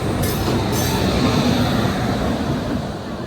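A WAP-7 electric locomotive hauls the Kacheguda Weekly Express into a station platform, producing a loud, steady rumble of rolling wagons and wheels heard from on board.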